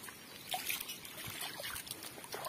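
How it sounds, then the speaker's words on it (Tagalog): Rain falls outdoors over muddy ground, a faint, even hiss with soft patters and trickles, heard without voices. "Medyo lumalakas yung ulan guys."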